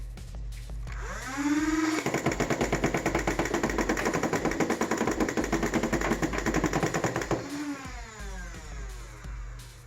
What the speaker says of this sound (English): Very fast shooting Nerf. It actually shoots 8 rounds per second.